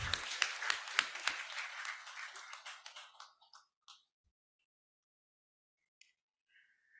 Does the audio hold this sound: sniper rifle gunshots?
no